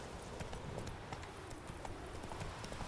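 Hooves clip-clop in a steady, even rhythm under a dense, noisy background, a horse trotting at moderate distance in The Witcher 3.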